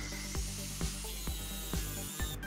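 A saw trims the ends of four stacked wooden boards in a series of five or six quick, evenly spaced cutting strokes, moderately loud and close by.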